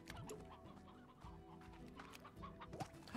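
A briar hen in Slime Rancher clucks in a scattered series of short, soft calls, faint and alone with no voices.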